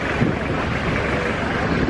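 Wind buffets the microphone outdoors on a breezy day, making a constant rumbling rush with no clear voices over it.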